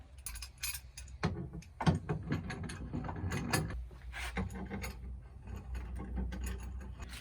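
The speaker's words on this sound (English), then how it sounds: "I'm going to clamp it down so it's good and tight" A clamp is cranked tight onto a straight edge during a camper van window rain shield build, giving a close, quiet run of ratcheting clicks and metallic rattles with no talk.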